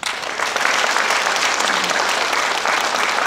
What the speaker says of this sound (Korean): 다시 한번 박수를 부탁드리겠습니다